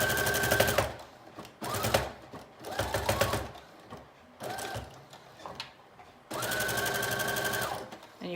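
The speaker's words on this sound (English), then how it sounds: "we're gonna go ahead and sew on a side seam in a very narrow zigzag stitch" A sewing machine runs a narrow zigzag side seam on a mermaid prom dress in several short close bursts, with brief pauses and mechanical clicks between them and a longer final run.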